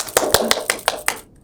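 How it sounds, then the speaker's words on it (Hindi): A person claps about six times in a steady, evenly spaced rhythm, each clap sharp and close, in a domestic scene of a Hindi crime drama, ending in silence. "देख लो ताली मैंने बजा,"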